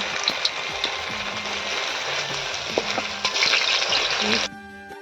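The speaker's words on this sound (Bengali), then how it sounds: "সেগুলো তেলের মধ্যে ভালো করে ভেজে নিতে হবে" Food fries in hot oil for a home picnic meal, a dense close sizzle with stirring clatter and scraping that swells briefly before fading at the end.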